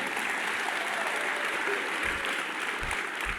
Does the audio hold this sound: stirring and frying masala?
no